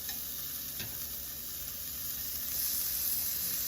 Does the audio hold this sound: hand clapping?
no